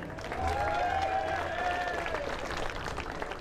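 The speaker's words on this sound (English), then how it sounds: "Give a big round of applause for" Crowd applause for a flat track motorcycle rider at a Canadian race meet, steady clapping from a distant audience, with engine tones and a low hum running underneath.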